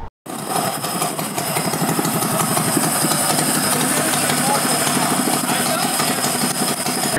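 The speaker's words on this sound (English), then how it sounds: "Our Stage 2 Tillotson 212 on the dyno." A Stage 2 Tillotson 212 small engine with a hot 265 cam, 6689 flywheel and 22 Mikuni carburetor runs steadily on a dyno, a loud continuous buzzing drone starting after a brief silent gap and holding constant throughout.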